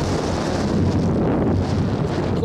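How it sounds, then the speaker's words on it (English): Strong, steady wind on a mountain roars and buffets the microphone, a constant rushing blast with no voices. "It's kind of windy up here."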